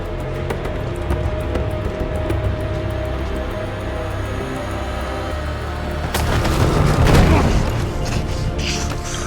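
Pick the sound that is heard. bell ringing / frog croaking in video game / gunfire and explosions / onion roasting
gunfire and explosions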